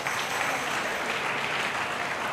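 Loud, sustained applause from a crowd of students at a lively song performance, steady and dense for the whole stretch with no voices standing out.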